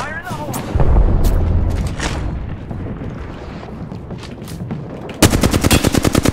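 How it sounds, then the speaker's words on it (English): Artillery bombardment in the battle royale game Apex Legends, with booming impacts and scattered gunfire throughout and a rapid, loud burst of repeated shots near the end. A player voice is heard briefly. "Bombardment."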